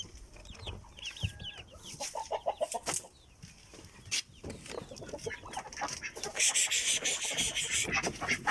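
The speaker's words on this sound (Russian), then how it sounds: "Курочки кушать просят" Hens cluck in a coop at dusk, with short rhythmic clucks and scattered calls close by, alongside scratching and rustling noises from the birds moving about.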